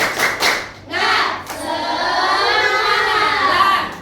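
Primary school children in a classroom clap a quick rhythmic pattern together, then break into a loud, drawn-out group cheer, sounding close and energetic.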